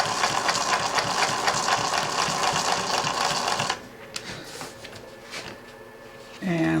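A Singer 20U33 industrial sewing machine runs a zigzag stitch through two fabric layers at a steady rapid mechanical chatter for about four seconds, then stops, leaving quieter handling noises and a brief faint hum near the end.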